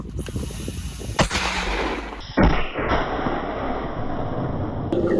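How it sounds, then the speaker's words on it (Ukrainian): A heavy booming blast from a mortar, loud and close, with a sharp report and rumbling echo in a noisy outdoor setting. "Одну вогонь. Момент! Постріл!"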